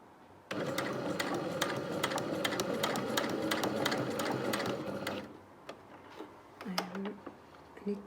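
Sewing machine stitching a bound buttonhole runs in a steady, rapid, close-up burst for about five seconds, then stops, leaving a few faint handling clicks and rustles.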